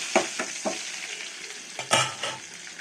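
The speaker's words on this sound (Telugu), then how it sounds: "జీడిపప్పు బదులు కొంచెం కిస్మిస్ వేస్తున్నానండి" Raisins frying lightly in a pan as part of the tempering for Kanchipuram idli, giving a steady close sizzle broken by a few sharp scraping stirs near the start and one louder stir toward the end, with no voices.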